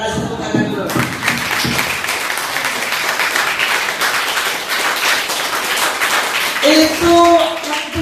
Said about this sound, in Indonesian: Wah, kita kasih tepuk tangan dulu.